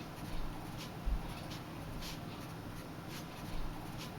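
Pencil sketching freehand on paper without a ruler, drawing a pickup truck in orthographic projection: soft, faint scratchy strokes in short bursts over a low steady background hum, no talking.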